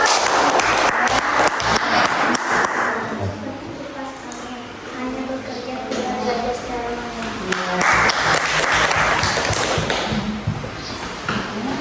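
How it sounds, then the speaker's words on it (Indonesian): Students in a classroom clap during an open class lesson, with a burst of applause at the start and another later on. A teacher's voice talks between and over the clapping. "Tepuk tangan dong."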